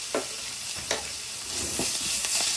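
Ginger garlic paste sizzling in a pan with eggplant on the way, a dense close hiss broken by a few soft scraping stirs, no talking.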